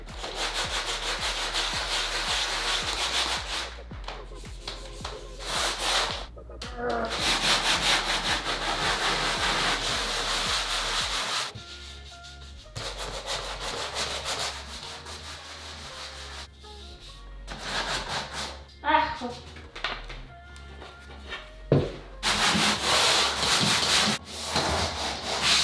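A power sander works over a wooden staircase during a renovation, giving a loud, steady abrasive whir that stops and restarts several times as the tool is lifted and set back on the wood.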